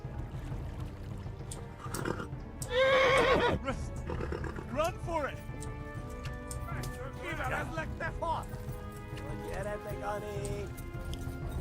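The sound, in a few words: horse neighing and galloping, video game Kingdom Come: Deliverance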